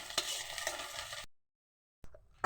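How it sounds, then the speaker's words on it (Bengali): An egg frying in a pan gives a brief close sizzle with a few scrapes, then cuts to silence before a short clatter and a renewed burst of sizzling. "ডিমটা একটু ভালোভাবে ভেজে নেব।"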